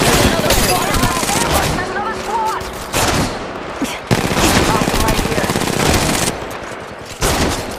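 Gunfire in the mobile game Apex Legends Mobile cracks out in dense, rapid bursts, loud and close, with a few brief pauses between volleys and game voice callouts mixed in.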